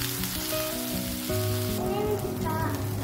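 Onions, coriander and mint fry in a pan with a steady, close sizzle that swells briefly as the herbs are stirred, with faint talking underneath.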